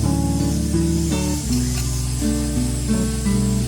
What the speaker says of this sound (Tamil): 1 டீஸ்பூன் நெய் ஊற்றிருக்கேன்.